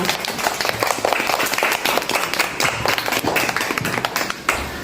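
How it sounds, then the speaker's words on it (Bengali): A group of children claps for the winners, a busy, uneven patter of many hands that keeps going throughout, fairly close, with some murmuring voices mixed in. "তোমাদের জন্য জোরে সবাই একটা হাততালি দিয়ে দাও।"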